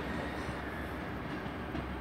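A train at Worcester Shrub Hill station on the Great Western Railway route gives a steady, dense rumble of wheels and engine, close and continuous with no voices.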